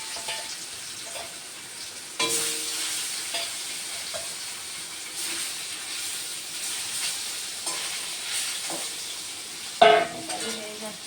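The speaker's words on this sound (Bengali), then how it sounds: "মাছগুলো ভাজা হয়নি, ফটাফট করে ভেজে নিই" Fish pieces fry in a pan with a steady close sizzle, punctuated by occasional spatula scrapes and a louder clattering stir near the end, with no one speaking.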